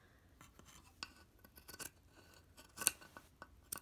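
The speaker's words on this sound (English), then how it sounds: "then I'm going to use my scissors," Scissors snip through two layers of fabric in short crisp cuts, several irregular close snips in a quiet room.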